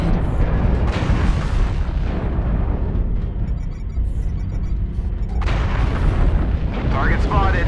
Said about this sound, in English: Airstrike activated.